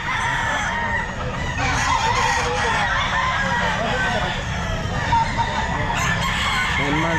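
A ten-month-old medium-size roadcock rooster crows at an outdoor pet market, its call standing out over constant crowd and market bustle.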